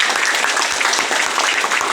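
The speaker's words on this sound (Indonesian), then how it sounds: "jadi tepuk tangan sekali lagi buat Mas itu" A crowd of community residents applauds at a job-skills training closing ceremony in North Jakarta, producing a dense, steady wash of clapping throughout the short burst.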